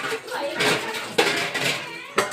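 Ginger paste goes into a pan of frying pieces, with loud, close clatters and scrapes of a spoon against the metal pan in quick bursts.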